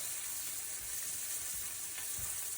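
Thinly sliced garlic frying with onions in a pan sizzles softly and steadily, a faint hiss with a few low stirring knocks, with no talk.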